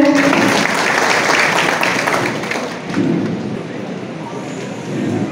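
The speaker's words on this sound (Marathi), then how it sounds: "एकदा जोरदार टाळ्या वाजवूया।" A crowd at a credit society's annual general meeting claps loudly and steadily, a dense roar of applause that holds for several seconds with slight swells.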